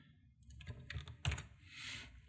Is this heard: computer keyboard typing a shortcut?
yes